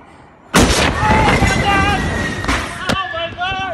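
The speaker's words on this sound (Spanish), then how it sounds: "Tras la terrible explosión en un almacén del puerto de Beirut, en la capital del Líbano" A massive explosion hits a warehouse at the port of Beirut, a sudden loud blast followed by a sustained rumbling roar, with panicked voices shouting over it and a second sharp crack near the end.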